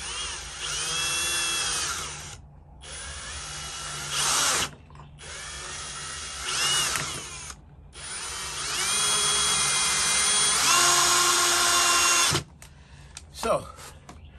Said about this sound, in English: that's why you should pre-drill